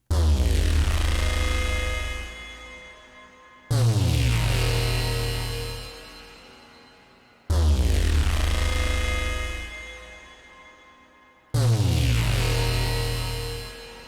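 Metallic Death sci-fi preset on the Arturia Pigments 4 synth, four loud metallic clangs about every four seconds, each with a heavy low rumble and a bright ringing tail that slowly fades.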